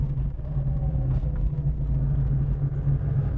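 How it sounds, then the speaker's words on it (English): Steady low engine rumble from a 1969 Ford Mustang Fastback as it downshifts, a close, continuous drone with a slight rise in pitch partway through and no talking. "Downshifting nice."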